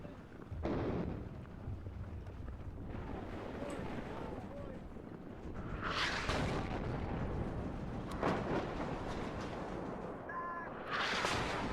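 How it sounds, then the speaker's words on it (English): Artillery fire in the Cold War strategy game WARNO: a few heavy booms and sharp blasts land several seconds apart over a low battlefield rumble, with a voice talking intermittently. "Here comes our artillery."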